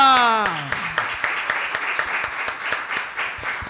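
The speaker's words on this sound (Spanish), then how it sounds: "le damos un gran aplauso deseándole las mejores Navidades a nuestro pueblo" Applause and clapping from a church congregation at the close of a Christmas-season Advent Mass, starting after a sung or spoken tone and continuing as steady, moderately loud clapping.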